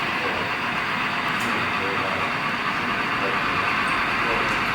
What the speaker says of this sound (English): Rocky Mountain Inn with the gold class carriages on.